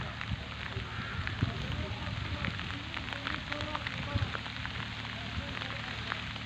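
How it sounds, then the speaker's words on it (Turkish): Steady autumn rain patters on the ground and nearby surfaces in a village field, a soft continuous hiss with scattered drips, fairly quiet outdoors. "Köyümüzde dün akşam başlayan yağmur halen devam etmekte."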